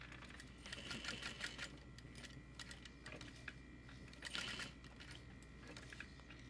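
A sewing machine stitching a clear glitter shaker waist pack in a U shape, a quiet rapid mechanical whirring and clatter in short bursts with brief pauses, heard alone and close up.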